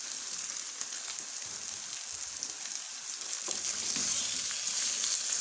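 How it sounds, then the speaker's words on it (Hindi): One kilo of chicken frying with onions in a pot for shahi korma, a dense continuous hiss like rain, fairly faint and steady, swelling slightly toward the end, with no talking. "इसको अब हम इसमें फ्राई करेंगे। चिकन का रंग तब्दील होने तक हम इसको फ्राई कर लेंगे।"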